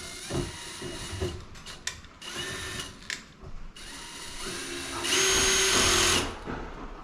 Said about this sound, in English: So let's do the DeWalt, and let's turn it to low. And let's put a screw in.